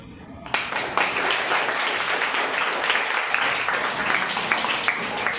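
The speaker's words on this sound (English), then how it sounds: "Give her a very good applause" A class of students claps for a classmate, a dense burst of many hands that starts abruptly and keeps going at an even, fairly loud level in a classroom, with a voice speaking over it.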